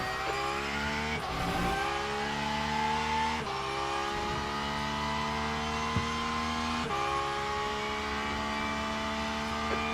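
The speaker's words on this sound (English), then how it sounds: "Okay, Mark, it's past the class car approaching." Race car in the Le Mans Ultimate sim racing game, a continuous high engine drone from the driver's car with gear shifts and faint tyre noise, another car passing close alongside.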